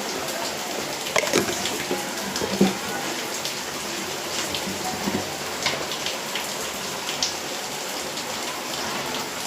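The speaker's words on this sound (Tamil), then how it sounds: "இப்போ சட்டி சூடாகிடுச்சு, எண்ணெய் ஊற்றிக்கிறேன்." Oil poured into a hot pan for cooking gives a steady sizzling, rain-like crackle, close and moderately loud, with a few sharper spits and pops scattered throughout.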